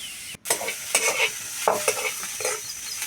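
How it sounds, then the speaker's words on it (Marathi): Onions fry slowly in oil over a low flame for a wild brinjal village curry, a soft continuous sizzle broken by several sharp spatula scrapes and stirs at irregular intervals, with no talking. "तर आता हे कांदे थोडा वेळ असेच तळून घ्यायचे आहेत तेलामध्येच मंदाचेवर असे हे कांदे तळून घ्यायचे आहेत"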